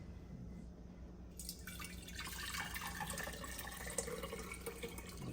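Honeysuckle liquid pours through a strainer into a jar, starting as a soft trickle and swelling into a steady, splashing stream, close by and moderately quiet with no talking.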